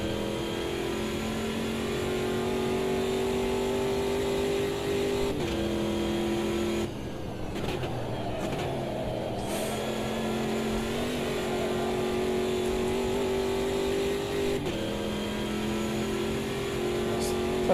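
Race car engine in Automobilista 2 revving hard with boost building down a long straight, steady harmonic drone with gear-change drops and rising pitch, loud and continuous, with a voice talking over it.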